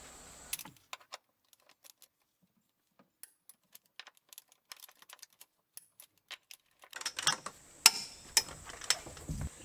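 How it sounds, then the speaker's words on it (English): A torque wrench with a 19mm socket tightens front control arm bolts on a 2005-2009 Subaru Outback, giving sparse, faint ratchet clicks. A busier burst of metallic clicks and jangling follows near the end. "we'll grab our 19mm, put it on our torque wrench, we'll set it to, and we'll torque them down"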